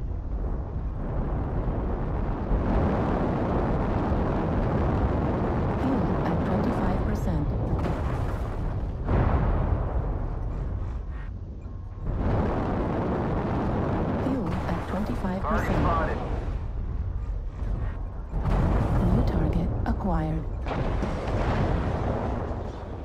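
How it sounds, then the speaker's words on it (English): Artillery explosions in a video game, repeated heavy booms and rumbling blasts in several bursts with short pauses between them, loud throughout. "Use the artillery."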